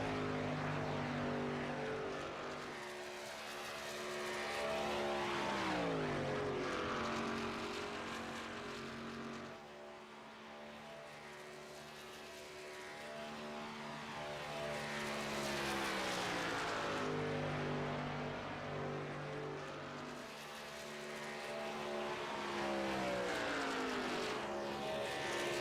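NASCAR race cars at the Michigan speedway taking the green flag, heard as loud engine roar that swells and fades in broad waves as the pack passes, with no talk.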